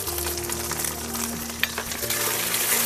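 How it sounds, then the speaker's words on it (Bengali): Ghatkol leaf paste with salt and turmeric sizzles steadily in a pan as it is stirred, with occasional scraping and clinks over the constant frying hiss. "এবারে ভালো করে নাড়িয়ে নিতে হবে মিনিট 10 সময় ধরে"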